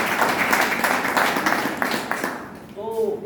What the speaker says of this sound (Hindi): इसलिए आप सभी लोगों के लिए जोरदार तालियां होती है।